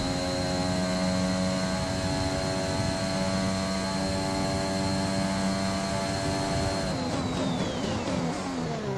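A Formula 1 car in the F1 2021 racing game at the Chinese Grand Prix, engine braking into a corner: a loud, continuous high-pitched engine whine holding steady, then dropping in pitch as the revs fall near the end.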